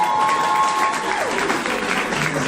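An audience claps steadily in a room for a person after a seminar score, a dense even patter of applause with a faint tone at the start.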